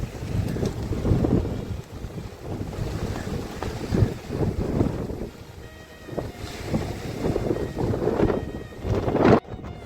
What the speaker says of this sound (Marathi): बापरे, वारा बघा